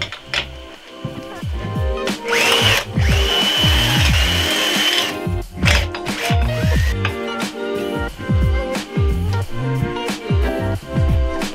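A power tool works on the carburetor of a Kawasaki Ninja 500R motorcycle, sounding in loud, choppy bursts of whirring and ratcheting, with short pauses and one longer sustained run near the middle.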